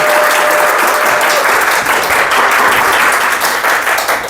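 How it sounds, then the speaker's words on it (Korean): A lecture audience gives loud, sustained applause to welcome author Hong Ji-su onto the stage, a dense continuous crackle of many hands that lasts the whole stretch. "홍지수 작가님 나오실 때 큰 박수로 안녕 부탁드리겠습니다"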